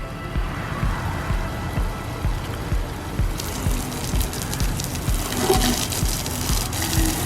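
Water gushes and sprays steadily onto the Brooks Autosports side panniers of a BMW GSA 1200 Adventure motorcycle like heavy rain, a loud continuous splashing wash that grows brighter partway through.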